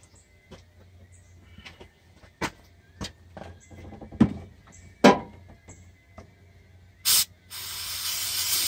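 Brake cleaner is sprayed onto a car's leaking steering parts: scattered clicks and knocks, then a short sharp hiss followed by a longer, steady loud spray.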